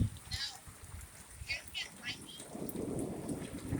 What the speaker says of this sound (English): We're getting lightning, thunder.